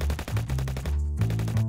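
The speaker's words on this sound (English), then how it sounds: "if I need more gunshots, I can simply expand the file." Rapid bursts of library gunshot effects, close and loud, with several quick shots running together like a short fusillade and no voices.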